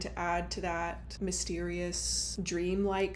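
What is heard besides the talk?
No everyday noise stands out behind the speech.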